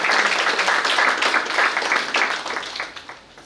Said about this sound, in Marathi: आमच्या लगान टीम करता जोरदार टाळ्या वाजवा एकदा